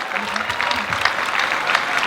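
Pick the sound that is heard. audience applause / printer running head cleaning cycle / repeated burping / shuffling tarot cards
audience applause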